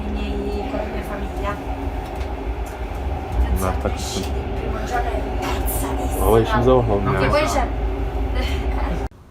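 Steady low rumble and rattle of a moving train interior, with people talking over it throughout.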